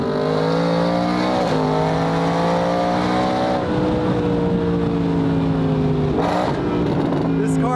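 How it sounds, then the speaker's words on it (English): A Mercedes SLS AMG Black Series engine revs hard while driving, loud stacked harmonic tones climbing through gears with brief shift dips, near and continuous, with a voice faintly under it. "This car is shredding right now."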